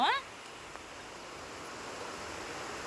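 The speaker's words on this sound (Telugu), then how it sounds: "చూసావా ఎంత పెద్ద వర్షము." Heavy rain pours down while children play outside in it, a steady, even hiss that fills the whole stretch after a short voice at the very start.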